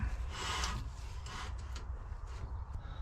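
A BMW E46 M3 brake disc is turned by hand on the hub, giving faint scraping, rubbing metal sounds in a few short strokes, quiet and close.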